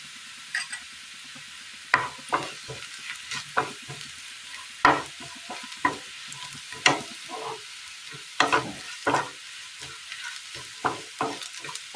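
Chili and turmeric powder fry in a pan for a Kerala curry, a soft steady sizzle broken by repeated scraping stirs at an uneven rhythm, close up with no talking.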